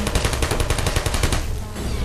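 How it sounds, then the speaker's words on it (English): Turrets in the video game Portal fire a rapid automatic burst, a loud, close stream of evenly spaced shots that thins toward the end, no voices. "If the turrets see you with their laser, they will shoot you."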